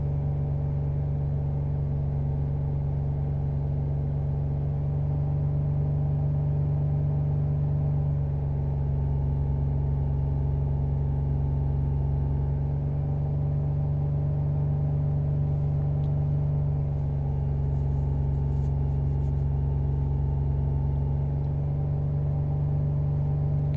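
Jaguar X-Type 3.0 V6 from 2007 idling with a misfire, a steady low engine hum with a strong droning tone and slight rises and dips in pitch, continuous and close.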